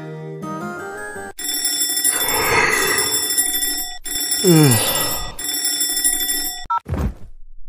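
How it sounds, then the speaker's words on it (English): A cell phone alarm rings loudly in repeated bright, tonal bursts with short gaps, close and dominant, followed by a brief thump at the end. "I'll be well rested until my alarm goes off for 4 o'clock on my"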